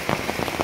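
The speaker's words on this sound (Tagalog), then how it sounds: "Kay ulan namang gyud, kusog kayo ang ulan" Heavy rain pours down, a loud, close, continuous roar of drops hitting a surface.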